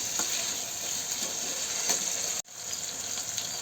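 Grated coconut sizzles gently in a hot pan for a red bean gravy, a soft steady frying hiss with faint stirring scrapes and one brief break.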